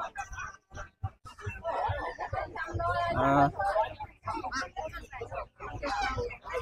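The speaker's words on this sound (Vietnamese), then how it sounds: "Rất là nhiều gà, nhiều vịt." At a poultry market selling chickens, ducks and geese, chickens cluck and squawk continuously under a man's speech nearby, with dense bird calls filling the space.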